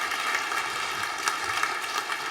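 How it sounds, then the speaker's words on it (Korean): Audience applause fills the hall at the close of the 19th Ilsong Award ceremony: a steady, dense wash of clapping that holds for the whole stretch with no voices over it. "큰 박수로 수상자를 축하해 주시면 감사하겠습니다."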